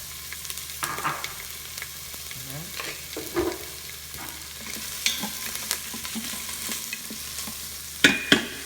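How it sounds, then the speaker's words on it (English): Chopped onion sizzles in oil in the bottom of a pot, with intermittent scraping stirs and clinks of the utensil against the pot, loud and close. "And the onion that I chopped up already is gonna go right in there."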